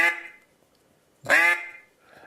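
Two sharp nasal quacks blown on a Haydel duck call, loud and close, separated by about a second of silence, with a faint trailing sound at the end.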